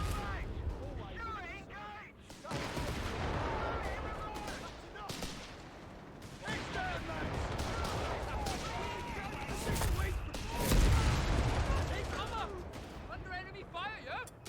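Rifle shots and machine gun bursts rattle across a World War II battlefield in Company of Heroes 3, dense overlapping fire with deep booms, heard under steady talk from a commentator.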